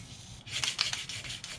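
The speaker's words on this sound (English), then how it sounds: "I just want to clean the boards, the lifter boards out a little. I just got a nylon brush." A nylon brush from a Harbor Freight kit scrubs the lifter bores of a freshly machined 455 engine block, giving a few quick, soft bristly rubbing strokes up close over quiet background.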